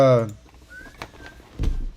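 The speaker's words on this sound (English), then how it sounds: "who the fuck is doing the whistling?" Someone whistles a short, thin sustained note in the background, faint and brief, with a voice speaking just before it and scattered clicks and a low thud around it.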